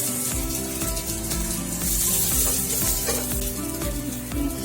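Onions, garlic and green chili fry in a pan with a steady crackling sizzle, broken by the rhythmic scrape of stirring, close and moderately loud with no talking.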